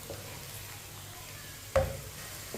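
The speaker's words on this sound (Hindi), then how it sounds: "प्याज को मैंने हल्का सा ब्राउन कर लिया" Onions browning lightly in a pan for sarson ka saag give a soft steady sizzle, with a single sharp stir or utensil knock partway through.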